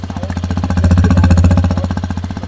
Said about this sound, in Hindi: स्टॉक एग्जॉस्ट है गाइज, बट देख लेना